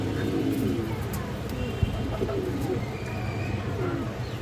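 High flyer pigeons coo softly and repeatedly in a loft, under a constant low hum of background noise.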